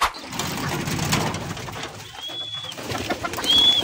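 Flock of pigeons jostling noisily over scattered feed, with soft cooing and fluttering close by, a steady busy commotion punctuated by a couple of brief thin whistles.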